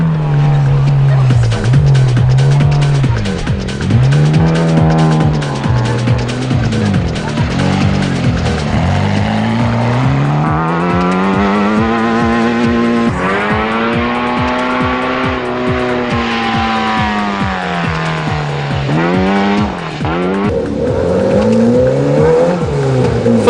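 Off-road race cars at the Stella 250 in 2020 roar past with engines rising and falling through gear changes, loud and close, with tire squeal and a commentator talking over them.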